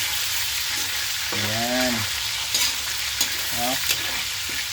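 Meat for pakbet fries steadily in a pan with a constant bright sizzle and occasional stirring scrapes, while a voice speaks briefly over it.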